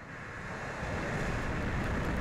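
Rocket carrying NOAA's GOES-T weather satellite lifting off, a steady distant broadband roar that swells slightly, heard alone with no voices.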